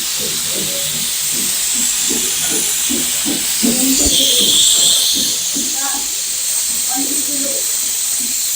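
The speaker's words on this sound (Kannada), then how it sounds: "ಇವಾಗ ಫಸ್ಟ್ ವಿಸಿಲ್ ಬಂತು." A pressure cooker hisses with a steady, loud steam whistle while donne biryani cooks in it. The sound runs through the whole clip as a person talks over it.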